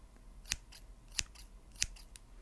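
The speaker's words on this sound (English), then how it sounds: "how many times you hear me open and close the scissors" Three crisp metallic snips of scissors, evenly spaced in a quiet room, close by, with faint softer clicks between them.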